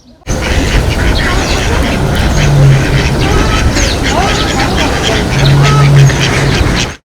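A dense chorus of many birds calling and chirping at once in a zoo in Odesa, loud and continuous, with occasional honking calls standing out.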